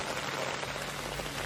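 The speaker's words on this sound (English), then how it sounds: "The rain is so peaceful." Steady rain falling outdoors, a continuous soft hiss of drops on surfaces, fairly faint and even throughout with no voices.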